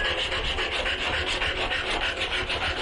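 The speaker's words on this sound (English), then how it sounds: "Start with a coarse grit file and then switch over to a fine grit and repeat the procedure" A coarse grit file rasps back and forth along the sharp edge of a wooden wall shelf board, a steady, loud, continuous scraping with rhythmic strokes and no talking.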